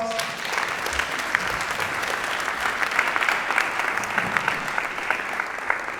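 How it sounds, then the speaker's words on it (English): A lecture-hall audience of students claps steadily, a dense, even wash of applause lasting the whole six seconds with no pause. "Give me another big round of applause."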